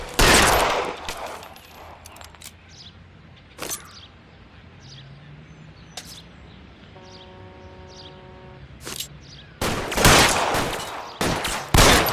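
Gunfire in the L.A. Noire video game: several loud bursts of shots break out at the start and again near the end, with scattered single cracks between over a low ambient rumble and faint background tones.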